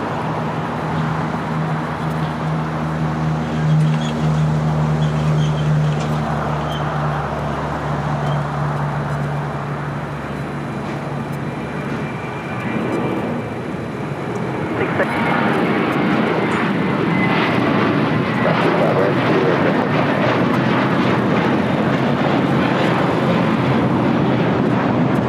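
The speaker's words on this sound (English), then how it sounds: "we got that JetBlue A321 now rolling down to 25 right" A JetBlue Airbus A321 rolls down runway 25 Right at LAX for takeoff, a steady low engine drone that swells into a louder, broader roar halfway through, heard from a distance under light wind noise.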